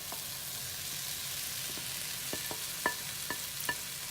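Cooked okra (bhindi) tipped into a pan of frying masala and stirred, giving a steady close sizzle with a few sharp scraping clinks of the spoon toward the end.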